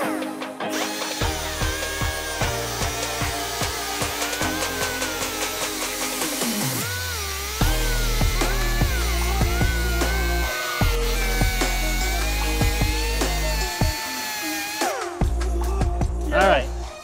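A cutoff wheel slices along a tape line in a VW split-window bus awning build, a steady loud whining grind with shifting pitch that runs the whole stretch, briefly easing and restarting near the end; no speech over it.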